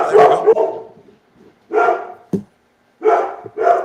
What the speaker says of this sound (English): Maybe you want to, Kathy, you want to do something about the dogs?